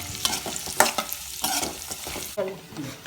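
Cashews and raisins sizzle and crackle in hot fat for a payasam, with several bursts of stirring and clinking at close range over a few seconds, no voices.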